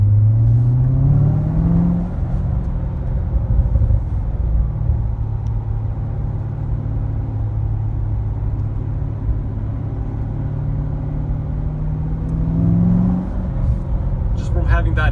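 A C7 Corvette with aftermarket exhaust driving on a track, a deep loud engine rumble that rises in revs at the start and again near the end, steady cruising drone between, with talk over it.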